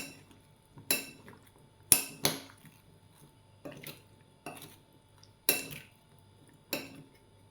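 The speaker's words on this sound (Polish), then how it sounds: "I teraz wszystko mieszamy." A spoon clinks against a bowl while a pickled cucumber salad is mixed, about seven sharp scraping knocks spaced a second or so apart, close and clear over near silence.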